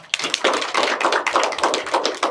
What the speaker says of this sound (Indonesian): Beri aplaus untuk Andi Askar.